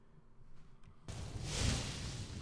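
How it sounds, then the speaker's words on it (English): After a quiet moment, a sudden burst of electronic noise rushes in as mannequins appear in modded Skyrim, a broad hissing swell that rises and lingers. "that is the noise of all of my mannequins appearing"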